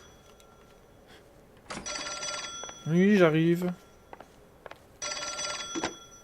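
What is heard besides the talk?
telephone ringing in video game L.A. Noire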